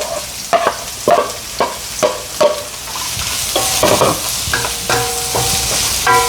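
Chickpeas or lentils with dried and green chillies and onion are sautéed in a pan, loud and close, with rhythmic metallic scraping and clanking of a ladle over a steady sizzle.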